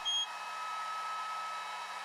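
An ATEZR P20 Plus laser engraver powers up with a brief electronic beep, then a steady, close fan-like whir that holds evenly throughout, with no talking.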